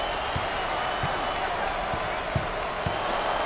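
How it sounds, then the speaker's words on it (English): Stadium crowd in the basketball video game NCAA Basketball 10 roaring in a steady, even wash, with a basketball bouncing in a regular rhythm underneath. "Man, this crowd is intense, Coach."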